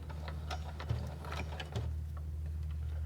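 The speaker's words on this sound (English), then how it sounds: "And then I'm going to go ahead and reverse stitch to lock that in." Sewing machine running steadily through faux fur fabric while reverse stitching to lock a seam, a continuous mechanical whir with light ticking, close and alone without speech.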